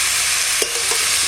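Cauliflower fries in a pan with a loud, continuous sizzle. Across a little over a second, a few quick scraping stirs cut through it.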